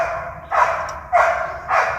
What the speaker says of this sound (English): I think the dog has a fawn over there.